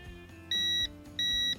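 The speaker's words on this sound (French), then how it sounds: "Si ça bip, c'est qu'on a une continuité électrique" A Tesmen multimeter gives two short, clear continuity beeps in quick succession over a low hum, close and distinct.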